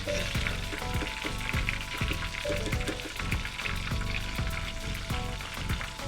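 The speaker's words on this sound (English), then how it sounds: "That's how you fry that fish, baby." Catfish fries in hot oil with a close, constant sizzle and bubbling crackle, busy and steady throughout, with no talking over it.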